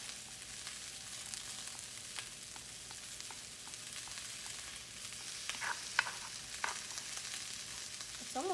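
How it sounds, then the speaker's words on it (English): Garlic is mashed with a fork in a pan of frying Brussels sprouts, giving several faint scraping taps and clicks over a steady, soft sizzle. "So I'm just gonna kind of smash the garlic with a fork"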